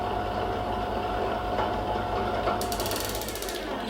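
A Teddy stand mixer with stepless speed control runs with a steady, fairly quiet mechanical whir and gear hum, continuous throughout, with a faint rhythmic ticking chatter appearing near the end.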